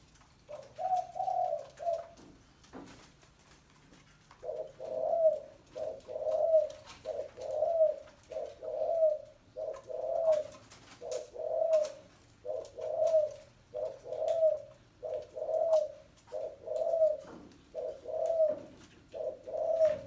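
A spotted dove with rare white feathers on its crown coos in a steady series of about a dozen short, even phrases spaced roughly a second apart. Faint background noise comes before the calls begin.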